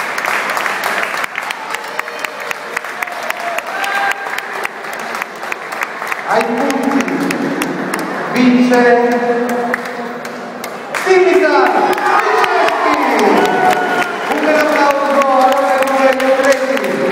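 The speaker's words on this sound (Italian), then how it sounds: "bellissimo applauso, concludono la serata di musica finale." An audience applauds warmly at the close of a final music evening, a long sustained wash of clapping with musical tones and a voice heard through it.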